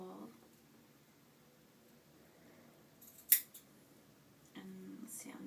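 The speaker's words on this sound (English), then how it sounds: "go ahead and snip through the hole" Scissors snip through fabric while cutting a wider armhole in a no-sew pet sweater, one sharp cut and a couple of quieter snips amid soft rustling and a brief low voice.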